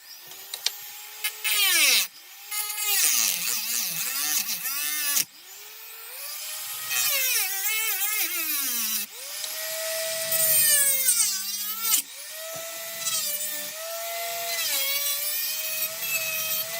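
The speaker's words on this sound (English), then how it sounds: "So, we can do the grind action." A small power tool grinds during the refurbishment of a 15-year-old RC IOM racing yacht. The motor whine rises and falls in pitch as it bogs and recovers under load, broken by brief pauses, close up and steady.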